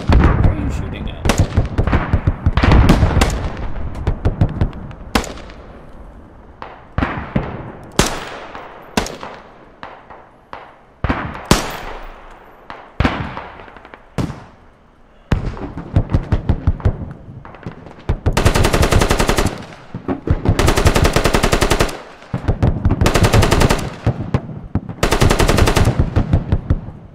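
Loud, close gunfire from the video game Squad: rapid single shots and short bursts early on, then long sustained automatic bursts toward the end.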